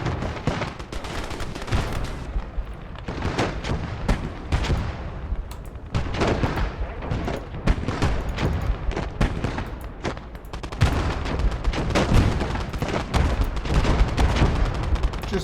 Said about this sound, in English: Dushka machine gun on him.